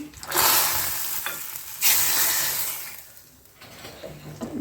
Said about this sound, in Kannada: ತುಪ್ಪ ಸಾಸಿವೆ ಮತ್ತು ಇಂಗು ಮತ್ತು ಒಣ ಮೆಣಸು ಹಾಕಿರೋ ಒಂದು ಒಗ್ಗರಣೆನ ಕೊಡ್ತಾ ಇದ್ದೀನಿ